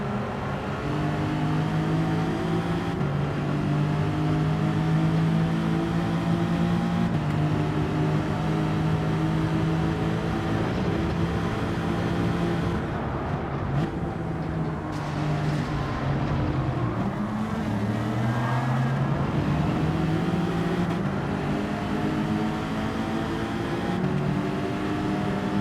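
A car engine in the racing game Gran Turismo 7 drones and revs continuously, pitch shifting up and down through gear changes, fairly steady and moderately loud with no talk over it.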